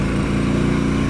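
Harley-Davidson Pan America motorcycle engine and exhaust, a loud, steady, close throbbing drone with a low pulsing rumble that holds for a brief moment.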